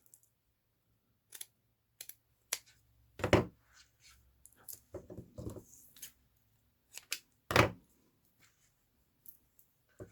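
Scissors snip paper in a quiet room, a scattered series of short crisp cuts and clicks, close but fairly faint, with longer snipping bursts in between and no voices.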